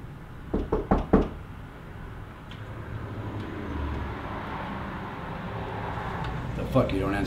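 Four quick, sharp knocks on a door near the start, loud and close, followed by a quieter room with low background rumble and a faint thump near the end.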